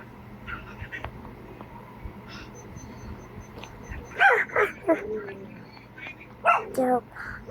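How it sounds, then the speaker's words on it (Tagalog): A household dog barks noisily in a few loud, close bursts after several seconds of quieter background, with a person talking nearby. "ang ingay ng aso namin."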